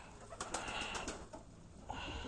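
Pigeons of several breeds, including ginger and homing birds, coo softly in a loft, with soft bursts and faint wing rustles close by over a low background hum.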